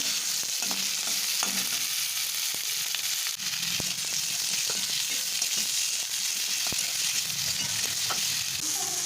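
Capsicum and onion sizzle steadily in a frying pan for a soya chilli dish, with frequent soft scrapes and clicks of a spoon stirring through the vegetables and no talking.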